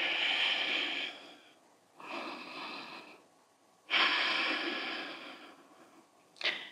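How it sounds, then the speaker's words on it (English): Slow, deep breaths during a yoga session, a long inhale-exhale followed by another full breath cycle and a short sharp intake at the end, close and fairly quiet with no talking. "Deep full breath."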